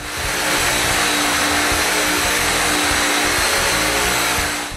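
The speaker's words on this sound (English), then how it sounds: "The sides are sanded with the linear sander." A linear sander works the wooden sides of a nine-drawer dresser, giving a continuous high buzzing whir that stays steady and close for a few seconds, with no voices.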